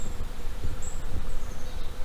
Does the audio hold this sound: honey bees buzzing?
yes